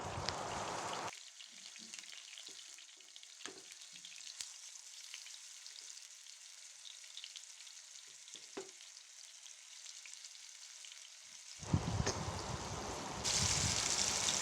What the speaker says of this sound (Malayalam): പാൻ അടുപ്പത്ത് വെച്ച് വെളിച്ചെണ്ണ ഒഴിച്ച് അതിലോട്ട് കുറച്ച് കൂടുതൽ ഒഴിച്ച് അതിലോട്ട് തന്നെ നമുക്ക് മസാലയ്ക്ക് വേണ്ടിയുള്ള വയറ്റുകയും ചെയ്യാം അപ്പോൾ അതിലോട്ട് നമ്മൾ മീൻ ഇട്ട് കൊടുത്തു